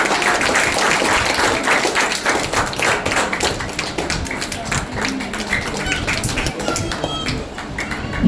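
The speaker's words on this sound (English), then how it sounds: "Don't stop clapping. Cheer the students and motivate them." Students at a final-day celebration at a MESCO ITI are applauded by their audience, with steady dense clapping and cheers filling the whole stretch at a consistent, fairly loud level.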